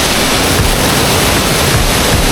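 A powerful waterfall's strong current gives a loud, continuous broadband roar of rushing water that fills the whole moment with no pauses.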